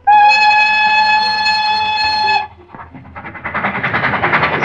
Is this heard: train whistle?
yes